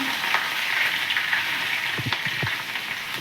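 Curry leaves and sliced green chillies crackle and sizzle in hot oil for dal dhokli, a steady close frying hiss with sharp pops and spatters near the end, no voices.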